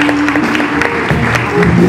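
Audience applause for a saxophonist at her farewell, a steady wash of clapping with crowd murmur and a low tonal hum or music bed running underneath, with some voices mixed in.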